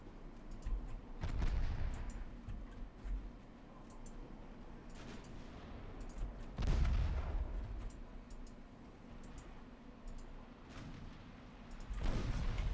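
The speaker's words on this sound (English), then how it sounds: "Sadly, all my torpedoes detonated." Torpedoes detonate one after another in the naval battle game Ultimate Admiral Dreadnoughts, several deep booming blasts with rumbling tails spread across the stretch, separated by quieter ambient hum.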